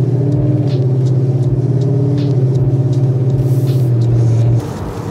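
A car drives steadily along a back road at night, its engine and road rumble droning loud and close with a low pulsing beat before easing off near the end.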